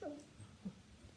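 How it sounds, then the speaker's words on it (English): A dog frustrated by a squirrel lets out a faint, brief whimper, a couple of soft high whines and breathy sounds close by in a quiet room. "Goofy dog."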